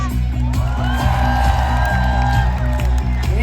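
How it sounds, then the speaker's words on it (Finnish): A large crowd at a celebration for Finland's ice hockey world championship team gives loud, continuous applause with cheering and whoops, dense and close, while a public-address voice rings out over the din. "Annetaan isot aplodit myöskin Ari Hillille."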